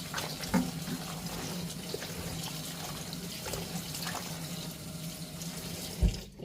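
Tap water runs steadily into a sink while kimchi cabbage is washed and rinsed, a continuous close splashing with a few louder knocks and bumps from handling near the end.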